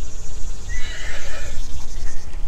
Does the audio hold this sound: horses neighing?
yes